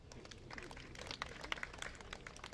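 Wedding guests clapping in a crowd, a dense patter of many hands at moderate distance, fairly steady throughout with no talking.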